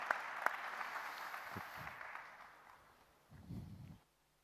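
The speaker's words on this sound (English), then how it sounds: "Can we give a nice round of applause to Ian Golden and Andreas Ekström as well?" Applause from a conference audience for panelists at a cybersecurity forum, a fading patter of clapping with a few sharp close claps near the start, thinning out before a low rumble and silence.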